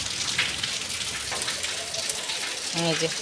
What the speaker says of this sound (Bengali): প্রচুর পরিমাণে বৃষ্টি শুরু হয়ে গেছিলো